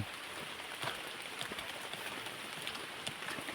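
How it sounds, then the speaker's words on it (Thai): Steady rainfall hisses softly and evenly, a faint continuous wash with scattered small drop taps, no voices over it. "ฝนตก"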